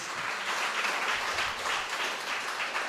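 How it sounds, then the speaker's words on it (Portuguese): A church congregation at a Sunday evening service applauds together, a soft, even wash of many hands clapping at some distance, steady for the whole stretch. "Você pode aplaudir ao Senhor?"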